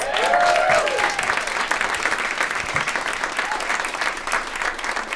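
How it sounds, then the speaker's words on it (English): Applause from a crowd of commuters for a string group performing at a 14th Street subway station, a dense wash of clapping that holds steady throughout, with a brief voice over the start. "Give them another big round of applause."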